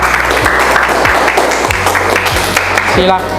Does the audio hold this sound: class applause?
yes